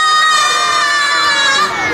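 A crowd of children at a shopping-mall hero stage show shouts together in one sustained, loud, bright cry that holds steady for nearly two seconds before dipping slightly at the end.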